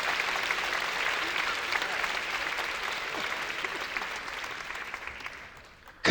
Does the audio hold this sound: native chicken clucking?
no